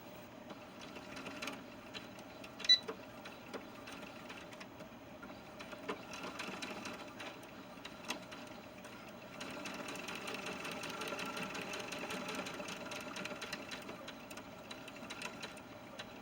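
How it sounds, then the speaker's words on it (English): A sewing machine stitches a quarter-inch seam, its needle running in a steady rapid mechanical whir with brief pauses and a few clicks, picking up a more sustained stretch in the latter half, close and alone. "So now we're just going to go ahead and sew that with a 1/4 inch seam."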